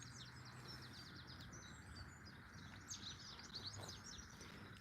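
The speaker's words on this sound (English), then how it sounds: "And listen to the bird song." Birds singing outdoors beside a dairy field with horses and sheep, several chirping and trilling calls overlapping steadily over a low rumbling outdoor background, fairly faint and distant.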